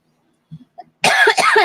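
Two loud, harsh coughs in quick succession, close to the microphone during a sugar skull crafting chat, following a few faint soft sounds in near silence.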